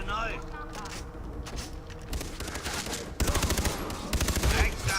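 Sniper rifle and other gunfire in the co-op shooter game Far Cry 3, with rapid bursts of sharp shots that grow louder and denser toward the end, heard under excited talking.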